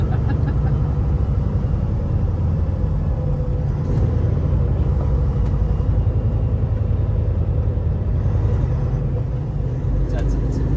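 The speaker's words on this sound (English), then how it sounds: "Jake braking. Oh, nice. I missed that sound." A truck's engine brake sounds from inside the cab as a continuous deep, pulsing diesel rumble, loud and unbroken for the whole stretch.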